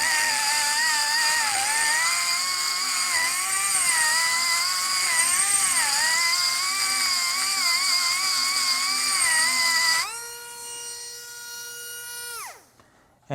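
Rockwood micro pencil die grinder working a complex metal shape in a tight area, a loud, high, steady whine that wavers slightly under load, then drops in pitch as it spins down and stops.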